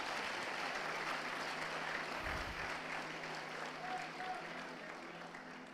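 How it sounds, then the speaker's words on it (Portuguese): A church congregation applauds during a Portuguese-language sermon, a sustained, dense wash of clapping that holds steady and then eases slightly toward the end. "Palmas para Jesus."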